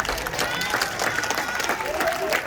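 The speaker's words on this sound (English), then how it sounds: "But everyone give Callum and Bounty one last cheer to say well done." An outdoor audience at a sea lion show at a safari park applauds and cheers, dense overlapping clapping with scattered whoops held at a steady level throughout.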